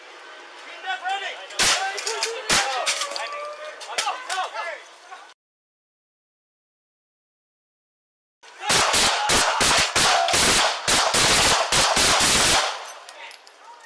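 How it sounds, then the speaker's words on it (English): Three police officers fire 18 rounds: a few sharp, loud shots ring out amid shouting, then after a few seconds of silence comes a dense, rapid volley of close gunfire. "Three officers opened fire with 18 rounds."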